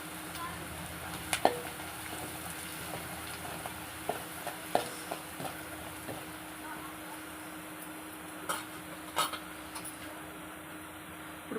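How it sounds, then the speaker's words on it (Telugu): Spices frying in hot oil for tomato rasam, a steady soft sizzle with scattered crackles and pops and occasional stirring clicks, close and fairly quiet, with faint talk in the background. "అది నూనెలోనే వేసి కాల్చాలండి"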